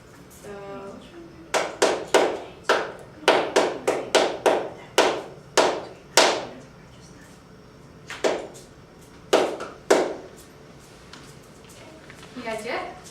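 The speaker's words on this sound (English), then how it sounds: "So I'm just gonna clap it," A teacher's hands clap out a short rhythm in a classroom, sharp close claps in uneven groups with brief pauses between phrases, then a few softer claps at the end.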